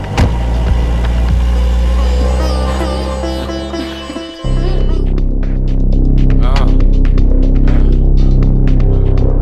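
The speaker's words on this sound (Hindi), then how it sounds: "चल रहे गाड़ी घुमा।" A car engine throbs loudly up close with a steady low hum, cutting out briefly before restarting and running on as the vehicle turns and pulls away.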